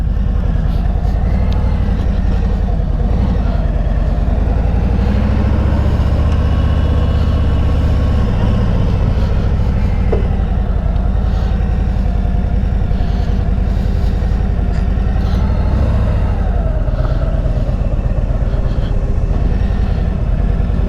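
A 2021 Harley Davidson Freewheeler motorcycle engine rumbles loud and steady throughout, a continuous deep drone heard close up with wind and road noise while riding.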